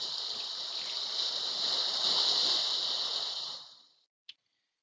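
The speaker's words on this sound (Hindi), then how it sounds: "जो कि मेरे पास ये लहरों की आवाज़ है।" Ocean waves sound effect, a steady loud hiss of rushing water that swells in the middle, then fades out abruptly and is followed by a single short click, with no talk.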